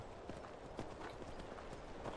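Horse hooves clip-clop quietly in the video game Skyrim, a soft, rapid, even patter of hoofbeats set in faint game ambience.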